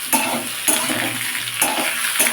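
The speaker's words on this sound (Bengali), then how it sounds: "এইবার আমি ঝিঙেটা দিয়ে দিলাম দিয়ে নাড়তে থাকবো" Ridge gourd is stirred in a frying pan with potato and eggplant, so a constant sizzle runs under several regular spatula scrapes against the pan.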